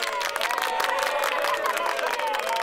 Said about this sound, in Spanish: ¡Démosle todos un fuerte aplauso!